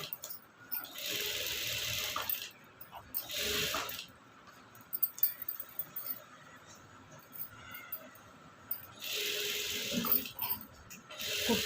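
Sewing machine stitching blouse cloth, running in several steady bursts of a few seconds each with quieter pauses between them, close by and moderately loud.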